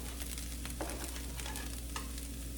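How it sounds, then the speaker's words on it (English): The white part of an onion frying and being stirred in a pan for low carb cauliflower fried rice, a steady faint sizzle with a few soft scrapes of the utensil. "I'm gonna stir it all the way through, getting it nice and fragrant for about 2 minutes."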